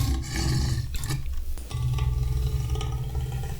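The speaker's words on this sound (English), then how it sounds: "Hollywood lion sounds." A Hollywood stock lion roar sound effect: two long, loud, rumbling roars with a brief break between them, deep and close, with no talking.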